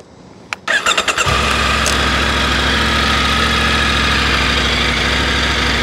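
A 2022 Triumph Tiger 900 Rally Pro triple engine cranks briefly with a few quick chugs, then catches and settles into a loud, steady, throaty idle up close.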